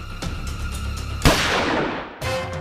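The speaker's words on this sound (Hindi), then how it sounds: "अंदर से गोली चलने की आवाज आई है, जल्दी चलो।" A single gunshot rings out from inside a building, a sharp loud crack with a long decaying tail, preceded and followed by noisy background sound.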